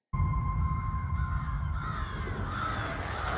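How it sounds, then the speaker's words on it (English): Crows caw at the opening of a Shadow and Bone Season 2 trailer, a harsh, sustained cawing over a dark, heavy low rumble, fairly loud and continuous. "Starting with crows"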